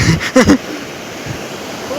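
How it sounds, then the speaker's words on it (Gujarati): Water overflowing from a village dam in the rainy season, a steady broad rushing roar, with a few brief voices and shouts over the top at the start. "દીક્ષર ડેમ ઓવર ફ્લોર"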